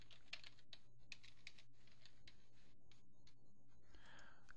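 Rapid, steady keystrokes on a computer keyboard as a file name is typed, quiet and close, with no talking.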